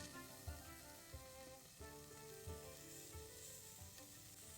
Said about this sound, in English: Take 100 grams of tofu and place it on a hot griddle pan brushed with a little oil.